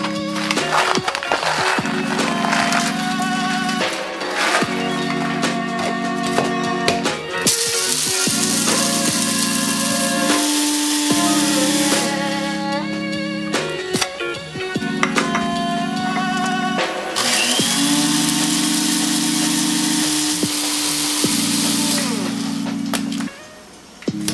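A coffee grinder whirs loudly through repeated grinding bursts as beans are ground at several coarseness levels for cold brew, the motor pitch shifting between runs with brief pauses and a few rattles in between.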